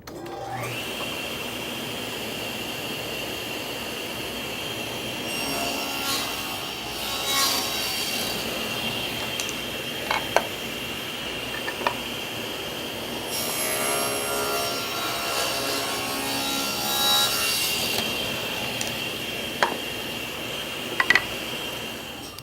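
Saw cutting wood pieces for a cabinet face frame, with a loud steady whine holding a fixed pitch throughout, overlaid by shifting cutting noise and a few sharp knocks.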